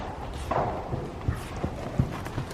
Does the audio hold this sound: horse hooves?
yes